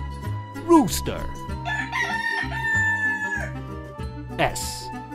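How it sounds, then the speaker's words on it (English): A rooster crows once over a bright, busy children's music backing, the call standing out clearly near the start before the tune carries on. "Rooster."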